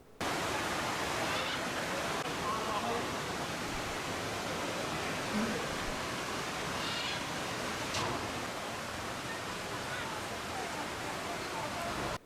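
A popular waterfall crowded with summer visitors roars with a dense, steady broadband rush, constant and loud for the whole stretch with no clear breaks.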